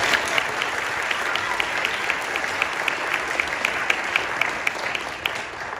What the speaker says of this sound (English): Another round of applause for this group and everybody who's heard today.